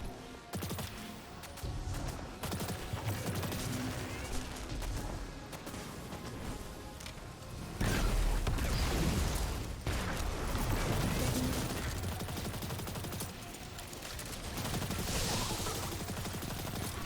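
Sustained gunfire and explosive blasts in a Destiny 2 style dungeon, the Spire of the Watcher, fought by a Solar Warlock against goblins, rolling fusillades nearly continuous and loud throughout with occasional crashes, no clear talk over it.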